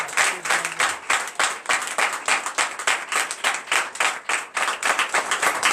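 A church congregation at a Sunday service in Comè, Benin claps together in a steady, driving rhythm, loud and continuous, with no talking over it.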